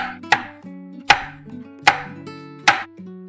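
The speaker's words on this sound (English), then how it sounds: "I'll cut it in half and make the slices" Knife slicing through a lemon on a cutting board, four sharp chopping strikes at an even steady pace, close and clear over a faint tonal hum, with no voices.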